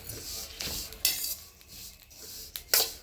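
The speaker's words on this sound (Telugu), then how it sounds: "ఇప్పుడు నువ్వులు తీసుకొని ఒక కడాయిలో వేసుకుందామండి వేయించుకుందాము" Sesame seeds roasting over low heat in a kadai, stirred with a metal spoon that gives repeated close scraping and clinking strokes against the pan, with no talking.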